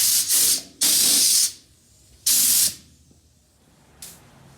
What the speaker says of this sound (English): right now all I'm gonna do is just blow some air on it and put some paint in it